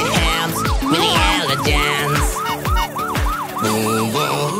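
An ambulance siren rings through a children's professions song, a repeating wailing up-and-down tone over bouncy music and drum beats, loud and steady from start to finish.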